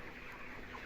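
Chickens on a poultry farm before harvest, a soft continuous clucking murmur from the flock, steady and moderately distant with no talk.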